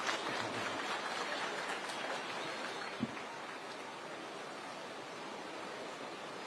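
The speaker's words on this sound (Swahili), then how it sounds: "Pigia makofi." Distant crowd applause at a housing project event in Mukuru, a faint, steady wash of clapping that holds evenly throughout with one brief knock near the middle.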